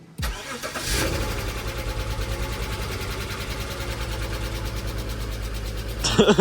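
A BMW X5 engine cranks and catches, then settles into a steady, even idle close by, revving slightly near the end.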